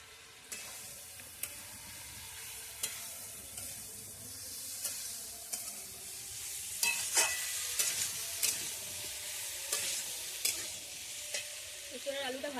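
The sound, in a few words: stir-frying young jackfruit and potato in spice paste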